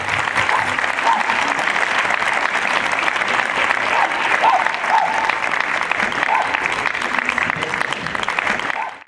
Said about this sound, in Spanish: un fuerte aplauso a Rafa, por favor